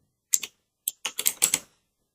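Fingers typing on a computer keyboard in a quiet room, a short burst of close, crisp keystrokes followed by a pause and a second quicker run of clicks, with no talking.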